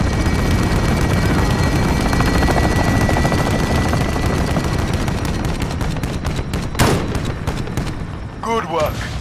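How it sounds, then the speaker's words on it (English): Helicopter gunship fire from a friendly chopper gunner killstreak in Call of Duty: Modern Warfare, a loud sustained rotor drone mixed with rapid machine-gun bursts and booms, with a burst of impacts near the end. "Friendly chopper gunner inbound."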